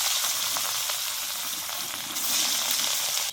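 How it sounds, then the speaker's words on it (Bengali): Fish frying in hot oil for a fish curry, a steady dense sizzle that holds at the same close, even level throughout and swells slightly near the end, with no talking. "আবারও বাকি তেলটায় মাছগুলো তুলে দিচ্ছি"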